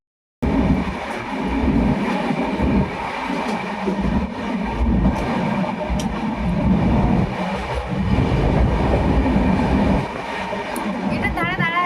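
Inside a moving passenger train near the open door, a loud continuous rumble of wheels on rails with rhythmic clatter and wind, steady throughout.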